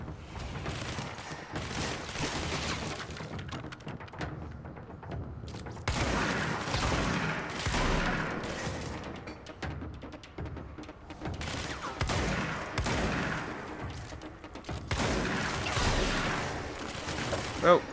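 Shotgun blasts in the video game Control come in loud bursts separated by quieter stretches, with a player talking now and then between the shots.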